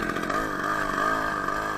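A homemade moped powered by a Ural chainsaw engine strains up a hill with a high, buzzing two-stroke whine, loud and continuous, and its pitch shifts slightly under load.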